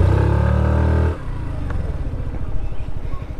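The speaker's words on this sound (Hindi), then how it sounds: "जैसे मैं इसे ज़ीरो से रेव कर रहा हूँ तो इंजन में एक थोड़ी सी थंप आ रही है।" A Hero Destiny 125 XTEC scooter engine revs from idle, loud and close at first, then settles into a steady, slightly thumping idle putter.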